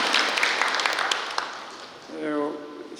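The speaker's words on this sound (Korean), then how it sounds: "박수 한번 보내주세요" An audience at a New Year town meeting with the mayor in Yeoheung-dong gives brief applause for the mayor, a moderate clatter of clapping that fades as a voice starts speaking.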